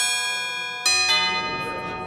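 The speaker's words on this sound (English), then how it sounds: "We got bell models." Bell model tones from an Aodyo Anyma Omega synthesizer: a sustained, harmonically rich bell-like ring, then a bright struck attack and a second strike that decay together, moderately quiet.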